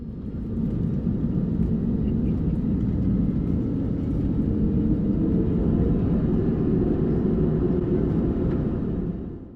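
A Jetstar airliner taxis toward runway 18 on the re-inaugural international flight from Avalon, heard from inside as a steady, loud, low engine rumble with constant broadband roar and no talk.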